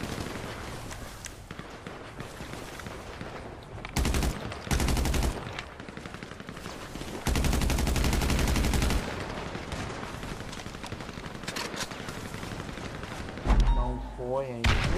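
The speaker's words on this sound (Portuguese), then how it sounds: "Essa arma aqui é boa, eu acho ela bem melhor que a AK. Essa carabina especial aqui." Rapid automatic fire from a special carbine rifle in GTA 5 Online, with loud bursts of shots rattling in several long volleys between quieter stretches of game noise.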